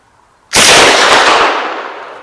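Swedish K (m45/b) submachine gun firing, a sudden loud close burst of rapid shots that blur together for about a second, then ringing off into echo.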